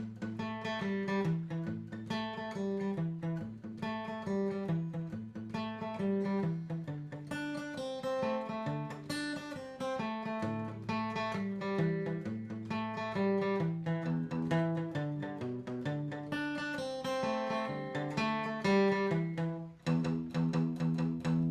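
Guitar plays a bouncy, syncopated 12-bar boogie-woogie blues riff in A, repeated in a steady shuffling rhythm, clear and up close with no talking.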